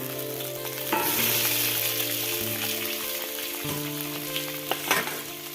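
Potatoes frying in a pan for sabudana khichdi, a close crackling sizzle with a few sharper pops and scrapes as the pieces are stirred, over a faint background hum.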